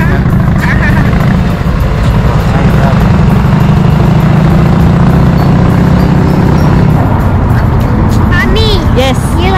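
Dense road traffic on a Paris street, a constant loud roar of car and motorbike engines close by with horn-like tones and voices talking over the din.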